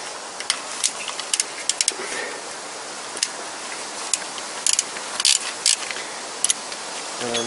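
A 3/8 socket ratchet loosens valve cover bolts on a Toyota Corolla VVT-i engine, giving quick bursts of sharp clicking over steady background noise.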